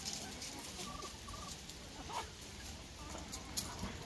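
Chickens clucking faintly while being fed watermelon, a few soft, scattered calls over a steady low background hiss.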